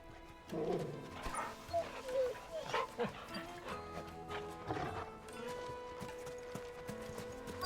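A dog barks in the Final Fantasy 16 video game, with a few short yelps and whines set against game ambience and character voices.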